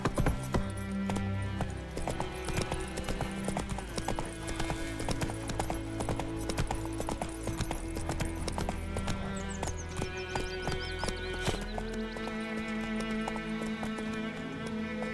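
In the video game Witcher 3, the horse Roach gallops with rapid, rhythmic hoofbeats, loud and close throughout, with a neigh, faint harness jingles and background game music beneath.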